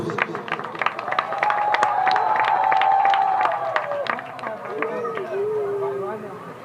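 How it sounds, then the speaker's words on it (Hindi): An audience welcoming a performer with rhythmic clapping and high ululating hulhuli calls, loud and lively, mixed with crowd chatter, swelling then easing off. "समस्ते तांकु करताली एवं हुलहुली दे स्वागत करंतु"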